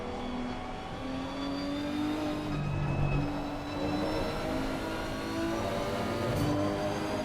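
A Lamborghini race car in a sim racing game at Spa, engine droning steadily with a sustained, even roar and slight rises in pitch, other cars faintly layered around it, no talking.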